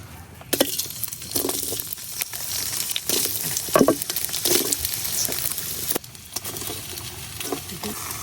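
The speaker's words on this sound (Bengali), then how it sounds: "এখন এই তেলের মধ্যে যে দুন্দুল গুলো আমি কাটতে রাখছি এগুলা দিয়ে দেব।" Freshly cut ridge gourd pieces fry in hot oil in a wok with a steady, close sizzle, broken by scraping and clinking stirs.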